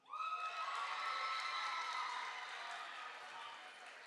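A large audience of students in a high school auditorium in Chicago breaks into sustained applause and cheering, a dense roar that rises fast and holds steady before easing slightly toward the end.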